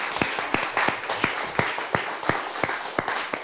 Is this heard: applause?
yes